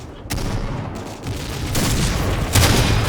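Loud, rumbling blasts and gunfire-like bursts from the shooter game Point Blank, dense and continuous, swelling into a heavier explosion boom near the end.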